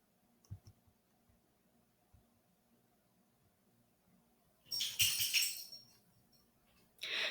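A few quiet computer mouse clicks come in a small cluster early on, close to the microphone, and then two louder bursts of clattering noise break a near-silent room.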